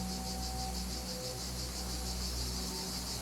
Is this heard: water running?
no